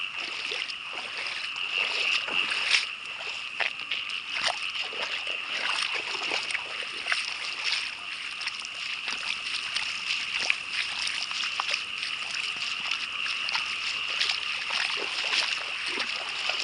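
Floodwater from heavy rain overflowing and splashing outside a house, a continuous close rush of splashing and trickling water with a faint voice underneath.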